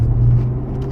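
A 2024 Corvette Stingray on the move, its engine giving a low steady rumble with a droning hum underneath, close and continuous, no talking over it.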